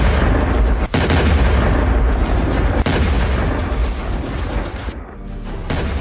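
US and Israeli strikes on an Iranian military base in Bushehr produce loud, dense blasts and booming detonations, one rolling into the next as a continuous roar of distant explosive fire.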